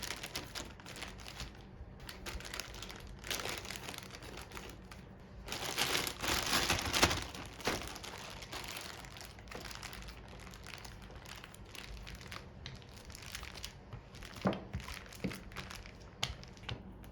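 Tart dough is rolled out inside a plastic bag, giving quiet, continuous crinkling and rustling of plastic with irregular soft crackles and a brief louder burst of handling partway through; close but faint, with no talking.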